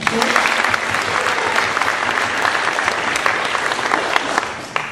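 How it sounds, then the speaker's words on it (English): An audience gives Emily a big round of applause, a dense, steady wash of many hands clapping that stays loud and even for the whole stretch. "How about you give her a big round of applause?"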